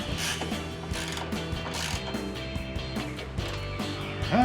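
A ratchet tightens a 7 mm bolt securing a headlight assembly on a Ford F-150, giving rapid close clicking strokes in quick repeated bursts with no talk over them.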